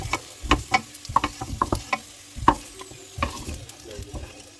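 Potatoes frying golden brown in oil in a pan, with a steady sizzle under repeated sharp scraping and stirring clicks from a utensil against the pan, close and moderately loud.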